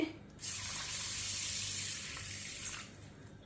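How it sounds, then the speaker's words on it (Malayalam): Water pours in a steady, hissing stream for about three seconds over ragi (finger millet) set to soak, then tapers off, fairly soft and close. "ഇതിലേക്ക് രണ്ടിലേക്കും നല്ലോണം മുങ്ങിക്കിടക്കുന്ന ഭാഗത്തിന് വെള്ളം ഒഴിച്ച്"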